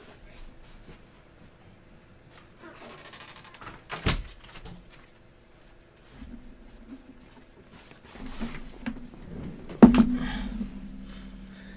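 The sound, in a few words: door being closed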